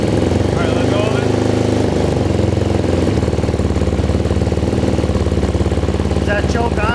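A 2008 KTM 250 XCFW dirt bike engine runs at close range in a shop, chugging steadily with a brief throttle blip, while people talk over it.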